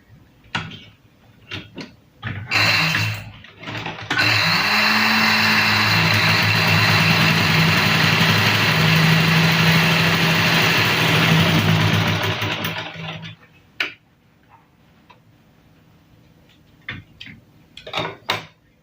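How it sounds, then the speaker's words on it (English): A black Singer sewing machine stitches a test piece of fabric, a loud continuous mechanical whirr running for about nine seconds, preceded and followed by a few short clicks and knocks. "now take a piece of fabric and test your machine here"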